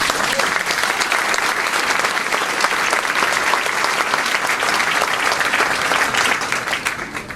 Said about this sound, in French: merci les amis d'être là et d'applaudir notre Premier ministre